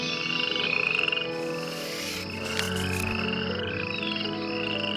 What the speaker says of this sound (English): Frogs were everywhere, and they croaked all day and all night.